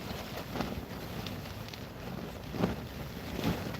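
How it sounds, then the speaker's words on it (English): Wind buffets the microphone in a low, steady rumble at night in Torrevieja, with a few louder gusts and faint knocks of water or a hull nearby. "The wind is picking up a bit, isn't it?"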